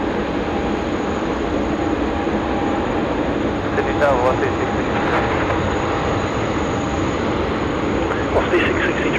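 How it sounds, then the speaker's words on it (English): Singapore Airlines flight 242 takes off at Sydney Airport with a loud, steady jet roar that lasts throughout and rises slightly midway. Voices and radio chatter come through faintly under the engine noise. "Okay, Singapore 242, clear for takeoff."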